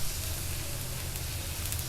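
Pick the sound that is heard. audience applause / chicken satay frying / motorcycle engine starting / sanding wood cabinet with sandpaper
chicken satay frying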